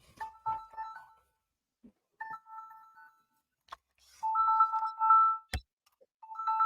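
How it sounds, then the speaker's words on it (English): A phone rings indoors in repeated two-tone bursts with pauses between them, moderately loud, alongside a few sharp knocks and brief faint sounds. "I don't know where the ringing is coming from."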